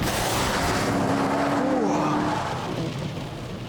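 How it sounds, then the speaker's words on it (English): A 500 brake horsepower car engine roars loudly and continuously at close range, holding a sustained pitch before easing off slightly toward the end. "Power is at the magic 500 brake horsepower mark, and I mean, just listen to it."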